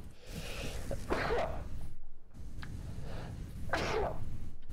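A person sneezes close to the microphone while playing the factory-building game Satisfactory, a sharp breathy burst standing out over steady low game sound, with a second similar burst a few seconds later.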